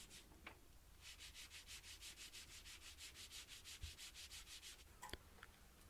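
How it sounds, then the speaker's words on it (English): A rustic scrap-wood Christmas angel decoration hand sanded with sandpaper, about twenty quick, even back-and-forth rasping strokes in a steady rhythm, close and clear, with a few small knocks near the end. "And then just finished it all off with a hand sanding."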